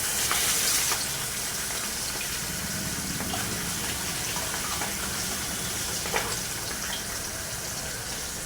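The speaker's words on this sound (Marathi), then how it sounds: "मी तव्यात मावळा टाकलेला आहे." Mavla fish fries in hot oil on a flat tava pan, a steady, even sizzle that hisses continuously at moderate loudness, slightly louder at first, with no talk.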